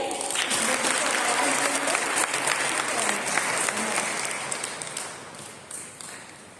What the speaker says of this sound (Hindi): हम लोग जोर से ईश्वर के लिए ताली बजाएंगे।